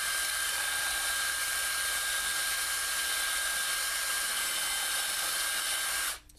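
A drill with a super sharp bit opens up holes in a guitar body, whining loud and continuous at close range, then cutting off abruptly at the end.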